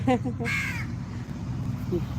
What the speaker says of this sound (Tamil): hi Kaaka good morning